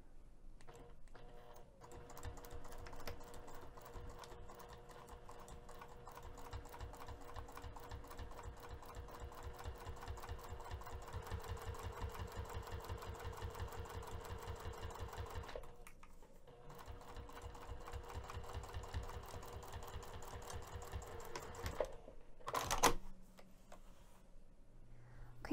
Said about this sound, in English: you may decide to hand crank over just the small portion just to get you past the zipper teeth, and then you can sew as normal